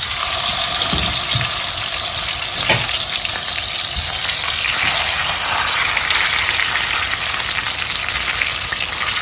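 Red snapper frying in oil in a pan over medium heat, a loud, dense, continuous sizzle close up with a brief sharp clack near the start, no talk.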